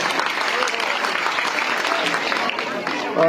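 Applause from an audience at a gathering honouring a former soldier, a dense, steady clapping that stays loud for the whole stretch, with a voice faintly over it at the end.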